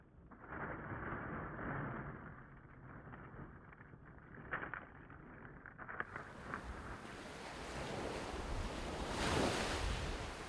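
Ocean surf washes in and out with a wind-blown roar that swells and recedes, the crash growing louder toward the end, with wind buffeting the microphone and no voices.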